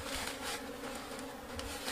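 Honeybees swarming around a wooden hive box set out in woodland, giving a close, continuous droning buzz with no pauses and no voices.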